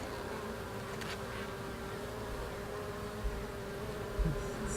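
Honeybees hum steadily around an open hive, a dense continuous buzz close by, with a few soft knocks of frames being handled and no one talking.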